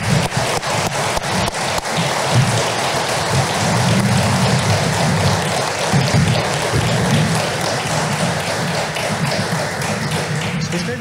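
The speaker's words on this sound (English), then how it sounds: "can we raise a round of applause for these incredible CISOs?" Large audience applauding a CISO panel at the BSidesSF 2022 security conference: dense, steady clapping that fills the whole stretch at an even, loud level with no break.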